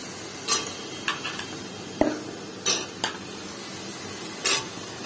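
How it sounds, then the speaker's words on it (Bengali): Water taro curry with dried shrimp goes into a hot pan and is stirred, with a soft sizzle underneath and crisp clinks and scrapes of a metal spoon against the pan at irregular intervals. "এবার আমি কচু তরকারিটা দিয়ে দিব"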